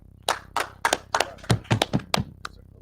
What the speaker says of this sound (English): Let's go clap it up.